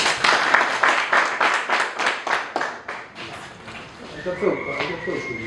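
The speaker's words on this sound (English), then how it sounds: "Clap for yourself." Audience clapping at a talk with a former governor, rhythmic claps that thin out after a few seconds while a voice starts speaking over the tail end.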